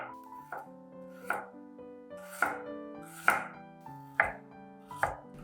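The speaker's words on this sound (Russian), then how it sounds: "Тем временем нарезаю пару зубчиков чеснока." A knife chops a couple of garlic cloves on a board, about seven sharp, fairly evenly spaced cuts, close and clear, with a faint sizzle of a pan of minced meat and mushrooms frying beneath.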